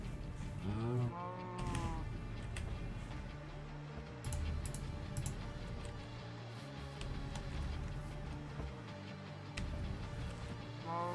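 Minecraft cows lowing in a survival world, a few drawn-out moos rising over steady in-game background noise and music, with some clicking and shuffling sounds, fairly close and clear.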